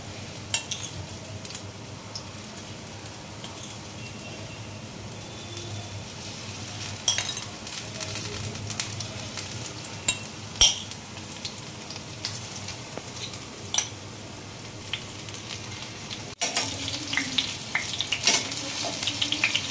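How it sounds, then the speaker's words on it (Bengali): Spice-coated okra fries in a pan for a yogurt okra dish, giving a soft, steady sizzle with occasional clicks of a utensil, fairly faint, and outside work noise in the background. "এটা একটু ভেজে নেবো আমি"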